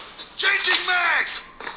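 Weapon magazine change in a shooter video game: a short sequence of metallic clicks and a sliding rattle, moderately loud, with a final click after a brief pause.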